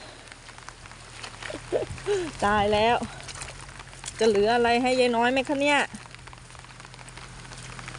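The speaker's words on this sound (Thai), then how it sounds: "ฝนตกอีกแล้ว" Steady rain falls on a farm plot in the rainy season, a constant soft hiss beneath a voice speaking in short bursts.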